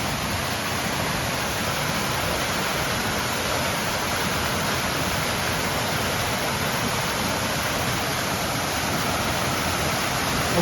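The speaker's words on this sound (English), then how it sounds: "Waterfall and a fountain." Steady broadband rush of a waterfall and fountain in Uruapan, Mexico, continuous and fairly loud throughout with no voices.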